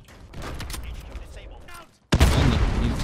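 Gunfire in a Modern Warfare match: dense bursts of rapid shots, then a short silence before a loud, sustained volley, with a player talking over the shooting.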